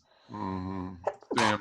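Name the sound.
sneeze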